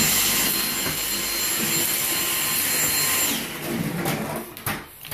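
A Dyson DC59 Motorhead cordless vacuum cleaner runs with a loud, steady high-pitched whine close by, sucking up chinchilla dust, then cuts off near the end, leaving a few faint knocks.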